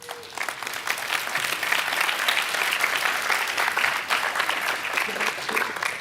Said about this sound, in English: Give a good clap to Pex.